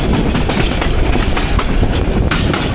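The Kishoreganj Express runs along the Tongi–Bhairab railway line in Bangladesh, a loud, close, continuous rumble of carriages with rapid clattering of wheels over rail joints.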